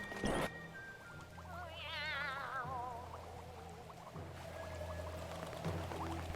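A sad cat meowing in the video game Bowser's Fury, a wavering, drawn-out meow rising and falling in the middle over soft game music and ambient tones.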